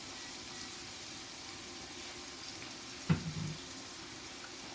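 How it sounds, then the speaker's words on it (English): Chopped onions and garlic with cumin sauteing in a pan for albondigas, a steady soft sizzle throughout with one brief clunk near the end. "I've got my pan going here, so I'm going to go ahead and start sauteing this"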